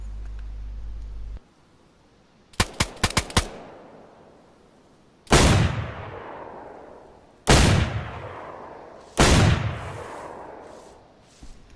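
Gunshots in DayZ on PS4: a quick burst of four sharp cracks, then three separate loud reports a couple of seconds apart, each trailing off in a long echoing decay.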